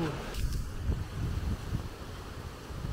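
Low, rumbling wind buffets the microphone throughout on Moorea, with gusty bursts over faint background noise.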